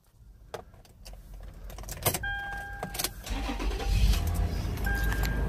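A 2013 Toyota 4Runner SR5 is started from inside the cabin: key rattle and chimes, then the starter cranks and the engine catches and settles into a steady idle.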